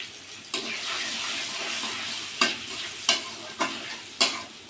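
Cumin paste fries with salt and turmeric in a pan over low gas, a steady close sizzle and hiss with several sharp scraping strokes of the spoon as it is stirred, no talking.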